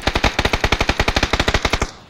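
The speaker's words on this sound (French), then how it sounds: "Coup de feu." Rapid automatic gunfire in the video game PUBG, a steady burst of about twenty evenly spaced loud shots lasting nearly two seconds before cutting off, heard alone with no talk.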